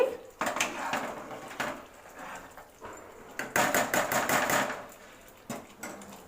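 Fried paneer pieces drop into a pan and are stirred, producing a run of close knocks and scraping clatters in uneven bursts, the busiest stretch falling in the middle.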